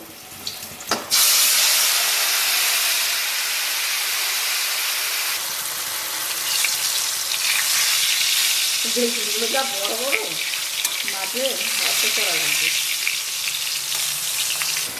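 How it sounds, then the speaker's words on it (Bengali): Black tiger prawns sizzle loudly in a hot wok. A sudden burst of frying starts after a sharp clatter, then a dense, continuous hiss holds to the end, with a faint voice briefly under it partway through. "এখন চিংড়ি মাছগুলো দিয়ে দেবো।"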